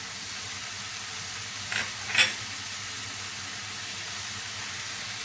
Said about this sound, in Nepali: अब फेरि म यसलाई चलाइदिन्छु खुर्सानी प्याज राखेर।